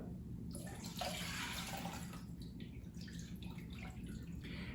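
Vodka pours in a steady splashing stream into a homemade amaretto mixture, a close liquid gurgle lasting several seconds with slight variations in flow.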